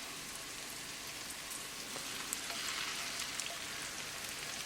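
Lamb chapli kebab patties frying slowly in a pan on a stovetop, a steady, even sizzle with soft crackles and pops, no voices.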